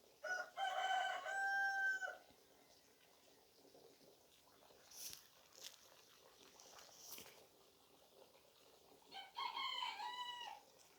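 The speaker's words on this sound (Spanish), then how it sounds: "Y cantó el gallo." A rooster crows loudly at the start, and a second crow follows near the end, separated by quieter rustling and a few short clicks in the background.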